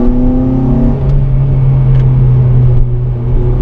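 A Honda Type R's engine revs on a narrow road, a loud, close, steady droning note that climbs in pitch and then holds, heard from inside the car with no speech.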